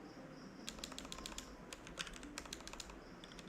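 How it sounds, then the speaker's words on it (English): Fast, light typing on a computer keyboard in steady runs of keystrokes, quiet and close against faint background hiss, with no talking. "let me type it"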